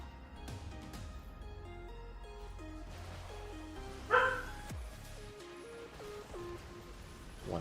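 A puppy being minded during a Direct Strike livestream gives one sharp, high yip partway through, fairly close, over steady stepped game music.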